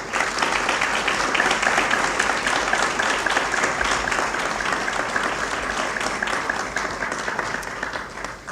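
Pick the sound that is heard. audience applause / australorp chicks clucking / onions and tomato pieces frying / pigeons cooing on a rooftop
audience applause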